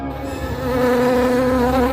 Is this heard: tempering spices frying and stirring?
no